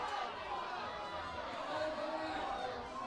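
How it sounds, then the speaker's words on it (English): A crowd at a bouldering competition cheers on a climber. The steady roar of voices and applause stays fairly distant and even throughout. "Crowd's giving him some support now"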